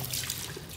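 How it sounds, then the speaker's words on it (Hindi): Water pours steadily into a container set up for washing a motorbike, a continuous close trickle and splash with no talking. "तो अभी इसमें थोड़ा सा पानी डाल देंगे"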